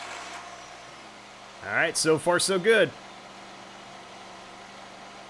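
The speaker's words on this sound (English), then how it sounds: "Now let's go ahead and turn over our engine." A 2013-2018 Nissan Altima engine idles at a steady low hum throughout, with a short spoken remark in the middle.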